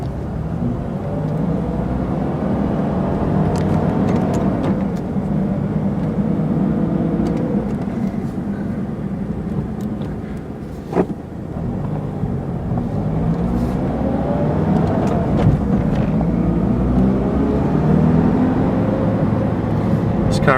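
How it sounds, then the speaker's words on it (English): A Mazda RX-7 sports car drives steadily with a loud, continuous engine drone and road roar, pitch rising and falling as it shifts through gears, heard from inside the cabin. "Car is a lot of fun to drive."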